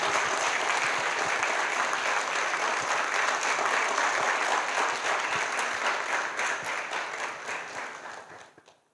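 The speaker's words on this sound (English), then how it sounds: "Please clap for yourselves." Applause from an audience at a ceremony in Batticaloa, Sri Lanka marking 2000 cath interventions, a dense sustained clapping that stays loud and even before fading out at the end.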